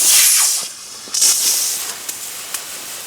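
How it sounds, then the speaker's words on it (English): A steady, loud hiss of water sprayed onto a Suzuki Bandit 1250 FA motorcycle comes up close, surging and easing as the spray moves, with a few small knocks in between. "first thing I'm going to do is spray it down a little bit, get it wet"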